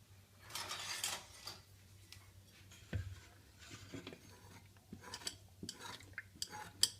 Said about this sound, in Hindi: अब हम इसको चम्मच से घोल देंगे।